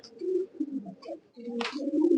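A pigeon coos softly at close range, a few low throaty bursts in a short sequence, with faint background rustling.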